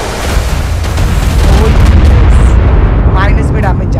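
A Spirit Griffin unleashes its spirit bomb attack in ARK Survival Evolved, a loud, sustained rumbling blast with crackling bursts that runs across the whole moment, with whooshing effects near the end.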